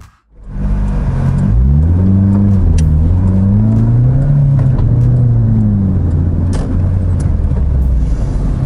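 Proton Satria Neo with a 1600cc Campro engine on a test drive: loud in-cabin engine note rising and falling through revs and gear changes, steady road rumble beneath, no speech.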